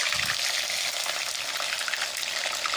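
Garlic and ginger paste hitting hot oil for chicken biryani, giving a steady, close, bright sizzle that holds evenly throughout with no voices.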